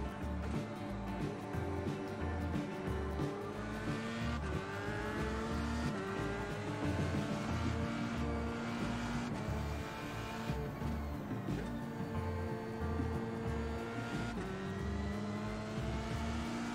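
Steady engine drone of a race car in the racing game iRacing, a constant rhythmic rumble with shifting engine pitch and no talk.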